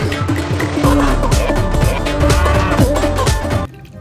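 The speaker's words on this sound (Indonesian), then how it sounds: "Dan ini sapi kau." A cow in the video game Jurassic World Evolution 2 lets out a loud, drawn-out, close moo lasting several seconds before it cuts off abruptly.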